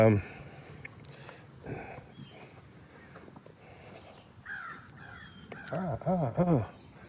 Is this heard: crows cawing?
yes